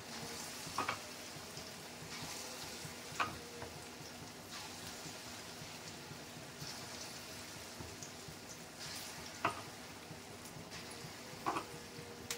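Pakoras fry one by one in heated oil for kadhi, a faint, steady bubbling hiss broken by a few sharper crackles and spits as pieces go in, with no talk.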